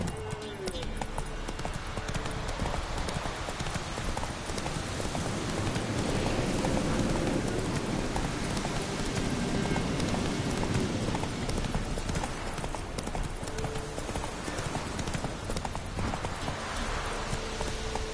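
The horse Roach gallops in a PS4 video game, steady rapid hoofbeats clip-clopping continuously at moderate loudness over a busy background of game ambience.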